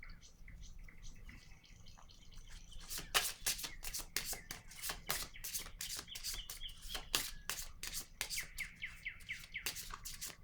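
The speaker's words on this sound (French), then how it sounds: "Je vais déposer une autre carte." Playing cards laid down one after another, a run of sharp, close slaps and flicks starting a few seconds in over quiet room tone, with faint chirping in the background.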